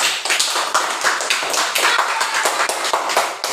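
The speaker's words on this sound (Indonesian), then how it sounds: "Sekarang tepuk tangan dulu untuk kelompok" Classroom applause for a student group that has just presented, brisk rhythmic clapping from a small crowd of hands, close and loud, with distinct individual claps throughout.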